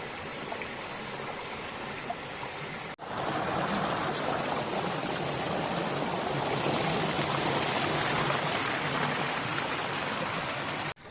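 Visharam waterfall stream near Vellore, a steady broadband rush of flowing water that swells louder after a brief dip around three seconds, continuous and close with no voices.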